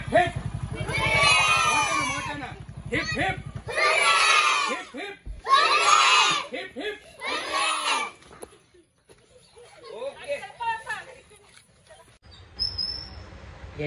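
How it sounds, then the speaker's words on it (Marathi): Crowd of children shouting and yelling at an outdoor shoot for an Independence Day army-themed web series, several loud bursts of clamour separated by short lulls, fading to scattered voices at the end. "लहान लेकरं वगैरे येऊन खूप धिंगाणा घालीत होते"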